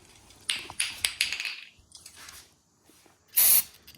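Cleaner sprays in several short hissing bursts into the carbon-fouled throttle body of a Ford F150, close by, then a pause and one longer, louder blast.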